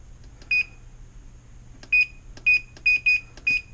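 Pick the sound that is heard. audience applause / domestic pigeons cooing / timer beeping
timer beeping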